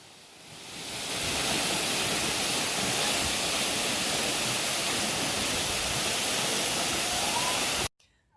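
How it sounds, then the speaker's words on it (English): A forest waterfall roars as a steady, loud wash of falling water that fades in over the first second and holds, then cuts off abruptly near the end. "From the waterfall to the forest."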